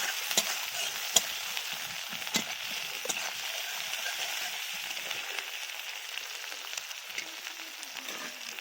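Chopped tomatoes fry in a pan for a Bengali fish curry, giving a steady close sizzle with soft crackles and a few sharper pops, no talk over it.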